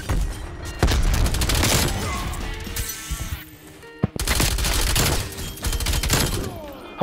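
Rapid SMG fire from the LC10 in a Black Ops Cold War Search & Destroy match, with dense loud bursts and booming shots that break off briefly, then resume.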